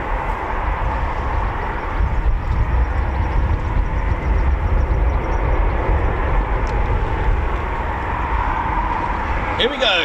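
Eurofighter Typhoon FGR4 jet at RAF Coningsby, a loud steady broadband engine roar that fills the whole stretch without letting up.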